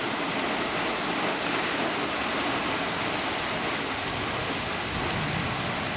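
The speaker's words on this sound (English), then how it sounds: "we're getting some full force again coming out of the drain as the rain picked up" Heavy rain pours steadily in Seward, Nebraska, during a July flood, with stormwater gushing at full force from a drain; a dense, continuous close roar of rushing water with no pauses and no voices.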